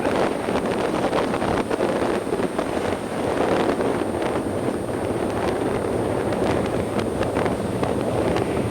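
Strong nor'easterly wind and swells hit an open Arctic beach with no ice to break them, a steady, loud roar of wind buffeting the microphone throughout, with no voices.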